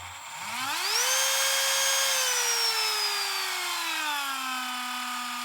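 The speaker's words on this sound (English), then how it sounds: "As you can hear, there's a resonance from whirring noise at low RPM." A Bosch Dremel-style rotary tool spins up quickly to full speed with a rising whine, holds a loud steady whirr, then slowly drifts lower in pitch; no talking.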